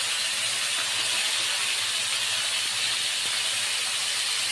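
Mixed vegetables frying in a hot pan with panch phoron spice mix and bay leaves, a dense continuous sizzle and hiss, close and loud throughout, with no voices.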